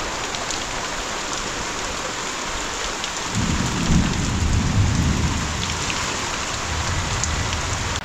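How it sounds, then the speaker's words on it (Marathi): Heavy monsoon rain pours steadily in the Konkan region with fat drops, and a deep roll of thunder joins partway through. The loud, continuous downpour plays without any talking. "गडगडतोय भरपूर आणि सरीवरचा पाऊस आहे, जोरदार आहे"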